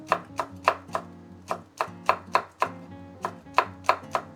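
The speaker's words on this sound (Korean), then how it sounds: "홍고추 한 개 먼저 썰어 보겠습니다. 그냥 송송 썰어 주세요." A knife slices a red chili pepper into thin rounds on a cutting board. Crisp, evenly spaced taps follow one another over soft background music.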